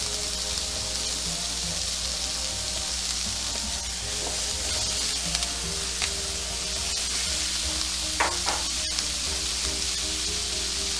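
Chopped onions sweating and celery sizzling in a pan, stirred with a wooden spoon, giving a steady close sizzle with occasional scraping and clacks of the spoon.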